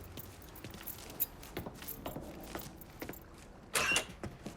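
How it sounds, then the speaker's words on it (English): Keys picked up and jangling in the video game Mafia 3, a few bright metallic rattles with a louder burst near the end, over faint background ambience. "Lincoln, pick up the keys."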